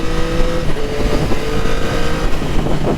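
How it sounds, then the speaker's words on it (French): Yamaha MT-09 motorcycle engine revving with a quickshifter, a loud, close, rough engine roar with rapid throttle blips and fluctuating pitch over a few seconds, no talking. "quand tu rétrogrades avec le shifter, le bruit fait vraiment kiffer, ou même quand tu accélères"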